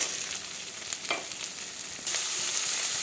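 Ginger-garlic paste, carrots and peas sizzle in hot oil with a steady close hiss. A brief clatter sounds near the middle, and the sizzle swells louder toward the end.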